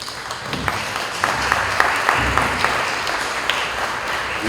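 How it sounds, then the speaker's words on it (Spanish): Audience applause for the director presiding over a Peruvian cultural event about the coast and the highlands: a steady wash of clapping from a seated crowd, even in level and sustained throughout with scattered sharper hand claps. "a quien le brindamos un fuerte aplauso"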